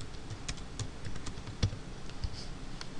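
Java code being typed on a computer keyboard, a steady run of close, crisp key clicks with a slightly heavier keystroke near the middle, no voices.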